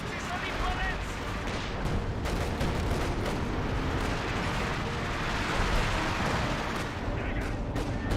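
Dense, continuous battlefield gunfire from the strategy game Company of Heroes 2, with machine gun bursts mixed among artillery-like booms. It is loud and steady throughout, with a voice talking over it.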